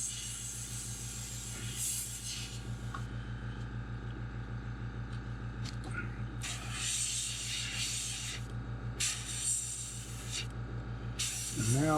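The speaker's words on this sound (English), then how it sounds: "mainly spraying paint on the mask" Bursts of aerosol spray hiss come in short passes over a mask onto a custom crawfish fishing lure, over a steady low hum, with a few faint scraping touches between them.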